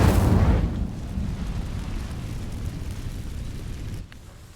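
A magical fire spell in the Hogwarts Legacy video game bursts against dry vines with a loud, booming whoosh at the start, then settles into a lower, rumbling crackle that fades near the end.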